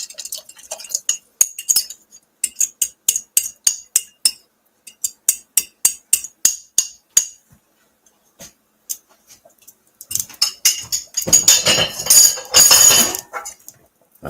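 A utensil stirs a pot of braised short ribs, producing a quick series of sharp metallic clinks in short rhythmic runs, followed by a louder stretch of continuous scraping and clattering near the end.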